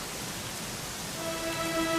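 Steady rain in the video game Dragon Quest XI, a dense hiss of falling drops with a faint tone entering near the end, no talking.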